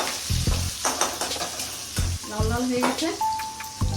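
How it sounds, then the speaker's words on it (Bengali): Grated onion frying in a pan with cumin, stirred in a home kitchen while a rohu fish curry is made; an irregular series of close scraping stirs sounds over a hissing sizzle, with a few light metallic clinks. "গ্রেট করা পেঁয়াজ দিচ্ছি, দিয়ে এইভাবে নাড়াচাড়া করছি।"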